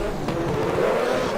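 Racing cars trail the safety car around the circuit, their engines a steady, moderately loud drone with no sharp revs.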